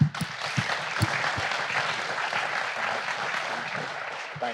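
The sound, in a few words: audience applause at a live event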